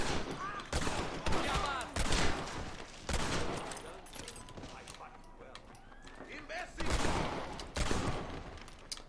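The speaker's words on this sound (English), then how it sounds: "I'm trying to shoot them in the head, but instead I disarm their gun" Gunfire from the Red Dead Redemption video game rings out in repeated sharp bursts, a rapid volley near the start and more shots later, with hoofbeats, game noise and a voice talking over much of it.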